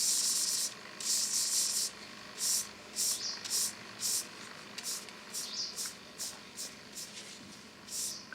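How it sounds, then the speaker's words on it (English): A paint brush drags through thick, drying paint on a palette in short, repeated scraping strokes, each one a close, dry rasp with a rhythmic back-and-forth pattern. "when you paint through it with your brush, the lines stay. And you can probably hear a little scraping sound as well"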